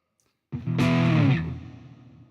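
A Harley Benton electric guitar rings out through distortion or overdrive, a single strummed chord hitting after a short silence, sustaining loudly and then slowly fading as it decays.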